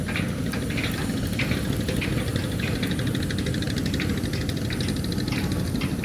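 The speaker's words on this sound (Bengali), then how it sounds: "নৌকাটি ছেড়ে চলে যাচ্ছে ঘাটের থেকে" Motor boat engine running steadily as the boat pulls away from a ghat at Narayanganj, a continuous low throbbing chug that stays loud and even throughout with no talk.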